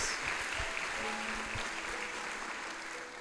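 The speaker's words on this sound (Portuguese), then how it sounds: "Podemos aplaudir ao Senhor pela Daion?" A church congregation at a Sunday service applauds to welcome a visitor, a steady wash of clapping heard from a distance without pause.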